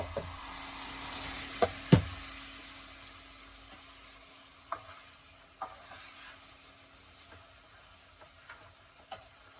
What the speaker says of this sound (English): So I'm just going to let these saute for a little bit.